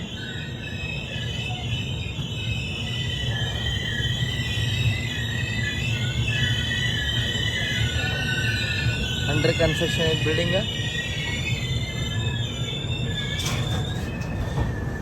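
The Chetak Express entering Udaipur, a steady rolling rumble with high sustained wheel squeal layered on top, and someone speaking briefly partway through.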